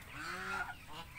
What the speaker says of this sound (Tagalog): Ito yun naman yung mga ducks natin sa labas.